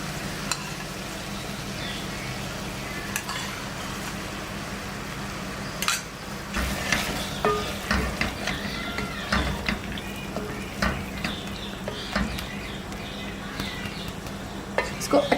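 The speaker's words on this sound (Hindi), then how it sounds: "इसको अच्छी तरह भूनेंगे तब तक के लिए जब तक ऑयल नहीं आ जाता" Mutton karahi being stir-fried in a pan, a low steady sizzle that grows busier partway through with repeated scraping and clinking of a spatula against the metal, fairly quiet overall.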